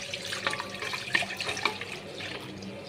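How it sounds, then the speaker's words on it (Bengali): Milk is poured into a pot for making sweet yogurt, a soft, continuous liquid splashing with small bubbling bursts, quiet and close. "আর এবারে আমি দুধটা দিয়ে দেব।"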